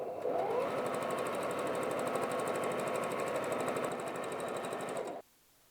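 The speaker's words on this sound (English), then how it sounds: "I'm just going to sew that down" A sewing machine stitches fabric down along the edge of a wallet in one continuous, close, rapid run of needle strokes that cuts off sharply near the end.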